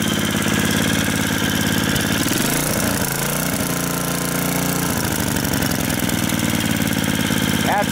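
Tecumseh H30 3 hp side-shaft small engine running steadily nearby, its pitch dropping and climbing as the throttle is worked, loud and continuous throughout with no talk.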